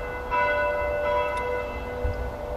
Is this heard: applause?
no